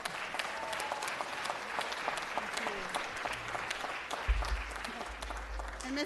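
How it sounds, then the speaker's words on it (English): Applause rises from a city council meeting, with dense, sustained clapping from the chamber and a low hum entering partway through, while a voice murmurs faintly beneath it. "One more round of applause."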